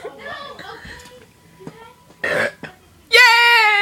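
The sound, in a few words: burp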